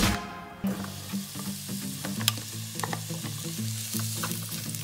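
Mushrooms go into a hot pan of sizzling beef bulgogi, with steady frying hiss and stirring scrapes running throughout, close and moderately loud, no talk.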